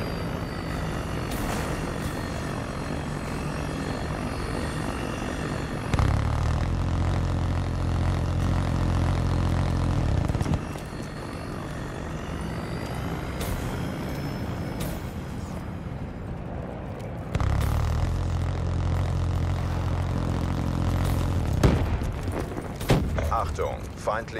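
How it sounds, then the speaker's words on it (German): A counter-UAV drone approaches in the video game Call of Duty Black Ops III, a steady rotor whir and engine drone under dense battle noise. Explosive rumbles surge twice, and a voice announces through it. "Konterdrohne nähert sich."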